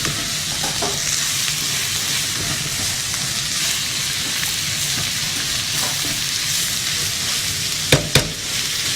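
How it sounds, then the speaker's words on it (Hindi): Chicken and vegetables sizzle steadily in a hot pan throughout, a loud continuous frying hiss with occasional stirring scrapes and a couple of sharp clinks near the end. "सब्जियों के साथ चिकन को अच्छी तरह आपने फ्राई करना है, सौटे करना है।"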